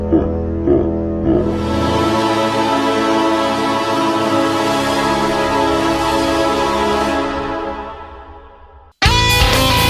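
An electric guitar with distortion sustains a thick harmonic minor chord or phrase that fades out slowly, then cuts to silence before a new loud burst at the end, with no talking.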